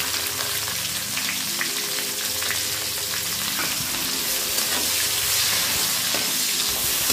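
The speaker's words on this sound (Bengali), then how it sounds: "আমি এবার কোচানো পেঁয়াজগুলো দিয়ে দিলাম" Chopped onions and ginger fry in a pan for a prawn curry, giving a dense, steady, close sizzle with light stirring.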